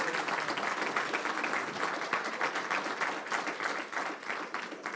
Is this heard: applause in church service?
yes